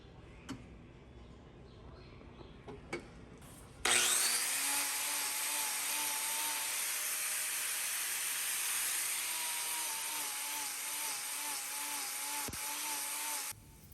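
A powered trimming tool cutting into a cow's hoof claw: a few scattered knocks and clicks, then a loud continuous high whine and grinding that holds steady for about ten seconds before cutting off, with no talk.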